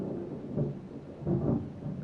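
Thunder rolling after a lightning flash in the video game Farming Simulator, with low rumbling swells peaking around a half second in and again more strongly near the end, moderately loud with no talk.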